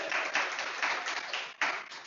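Audience applause for Shelly at a company sales meeting: a steady wash of clapping from a room of people, continuous through the whole stretch with a brief dip and a fresh surge near the end.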